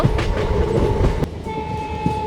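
A small train on the Indo-Nepal railway in Nepal rolls steadily along the rails, a loud continuous rumble with rhythmic clatter and a sustained tonal hum running through it.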